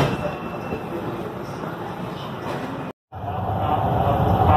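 Steady rumbling ride noise inside a car of the Yellow Line metro in São Paulo, a continuous broadband roar that drops out briefly and then returns slightly louder.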